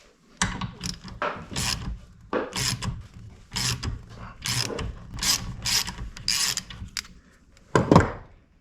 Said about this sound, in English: let's see if it cuts like a tap